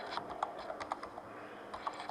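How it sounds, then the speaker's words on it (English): Typing on a computer keyboard, a quiet run of irregular close key clicks with a short pause partway through, no voices. "I'm going to type in MD5 generator"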